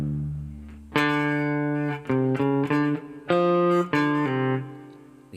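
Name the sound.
slow acoustic guitar melody with pull-offs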